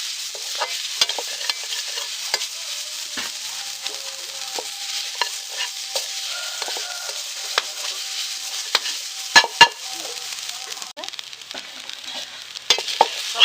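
Semolina and freshly grated coconut being dry-roasted and stirred in a pan for rava laddu, giving a steady soft sizzle broken by frequent scraping clicks of the spoon against the metal, close by with no talking.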